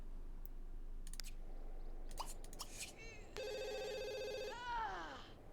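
Telephone ringing in The Sims 2, a tonal electronic ring following a few scattered game clicks, with soft talk briefly beneath.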